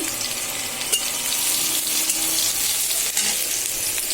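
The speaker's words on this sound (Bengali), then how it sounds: "চুলায় তেল পেঁয়াজ বসাইছি" Onion fries in oil on a stove for tempering dal, a constant dense sizzle heard up close with a couple of faint utensil taps, no one speaking.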